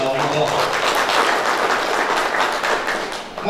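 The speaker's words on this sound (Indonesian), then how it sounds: "tepuk tangan buat bagong-bagong" Crowd clapping for bagong-bagong, a steady loud round of applause that dips briefly near the end, with voices mixed in.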